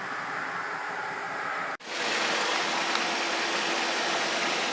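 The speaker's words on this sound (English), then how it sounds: "that's been idling for a bit." A BMW X5's engine idles close by in park, a constant broadband rumble with a brief dropout partway through, then continuing evenly.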